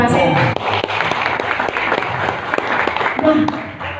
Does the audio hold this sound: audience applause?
yes